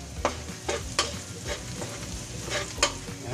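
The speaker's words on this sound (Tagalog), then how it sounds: "Haluan po lang natin para hindi po siya masunod." Onions and garlic sizzle in a frying pan for mixed vegetables while a spoon stirs them, giving scraping strokes at irregular intervals over a steady hiss of hot oil, close and moderately loud.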